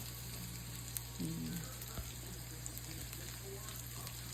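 Food sautés in a pan with a faint, continuous sizzle over a low electrical hum, with a few soft clinks from cooking.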